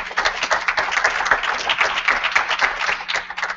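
A conference audience at a round-table session claps together in dense, continuous applause for a few seconds, fairly close and steady.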